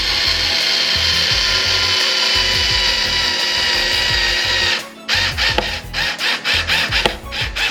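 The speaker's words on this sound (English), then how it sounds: "I'm going to put these screws back in." A power screwdriver or drill drives screws while a Logitech G29 racing wheel is being reassembled, a steady whirring run for several seconds followed by shorter bursts and ratcheting clicks, close and loud.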